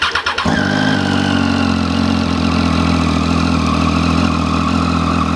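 Close motorcycle engine cranks briefly and catches, then idles loudly and steadily with an even mechanical drone. No speech.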